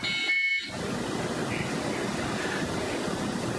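Apple IIe integrated modem mid-handshake: a brief high tone cuts out, then a continuous broadband hiss of static data noise fills the rest, steady and loud, with no voices.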